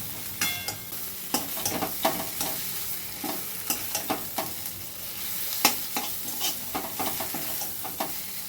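A bottle gourd leaf bhorta is stirred in a kadai over a high flame, with a spatula scraping and clacking in an irregular rhythm over a constant frying sizzle, close and fairly loud.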